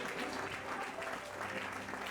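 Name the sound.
audience applause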